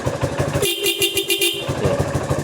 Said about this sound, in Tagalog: Malakas na rin yung busina.